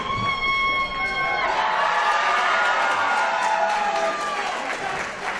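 A wrestling crowd at an IWC lucha event in Rural Valley cheers and applauds loudly and continuously, a broad roar with scattered whoops that swells after a moment.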